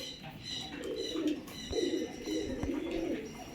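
Fantail pigeons coo in a loft, low rolling calls repeating in several bursts, close and clear over a faint background, with no talking.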